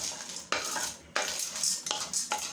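Roasted chana dal scraped and poured from a pan into a bowl with a metal spoon, steady close scraping and rattling in three bursts separated by short gaps.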